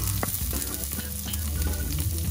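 Onion dropped into a little hot oil in a cooking pot, giving a dense, loud, continuous sizzle with small stirring knocks throughout and no talking.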